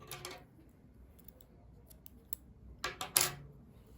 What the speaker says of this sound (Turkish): İpliği kesiyorum.